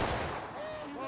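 Rifle volley gunfire in the War of Rights video game, a dense crackling burst of massed musket shots filling the short moment, with faint voices mixed in.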